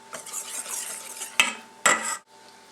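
Dutch baby batter with a pinch of nutmeg is stirred in a bowl, a soft, close swishing of the utensil broken by two sharp clinks against the bowl's side before it stops.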